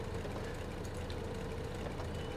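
Tractor engine running steadily in Farming Simulator 15, a constant low rumbling drone with no break across the short stretch.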